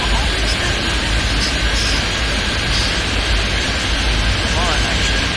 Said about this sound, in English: There's only the sound of that airplane in my ear